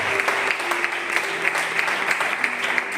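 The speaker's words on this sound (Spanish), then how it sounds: "dar un fuerte aplauso al Señor" A crowd claps steadily and loudly for a few seconds, dense applause with a hint of voices mixed in.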